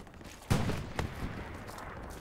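A few sharp, separate gunshots ring out in the shooter game Hell Let Loose, fired from a hedgerow position. One strong crack is followed by lighter reports, moderately distant, against a low background rumble.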